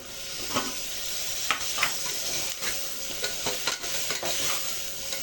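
Onions sauté with mint and coriander in a pan, a continuous close sizzle with irregular scraping and clinking as a spoon stirs through them.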